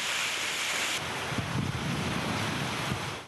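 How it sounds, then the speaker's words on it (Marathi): Steady, dense rain in Bhandara during a days-long storm before harvest, falling as a broad continuous wash with gusty wind noise throughout and no voices. "2 दिवसांपासून या ठिकाणी पाऊस सुरू आहे।"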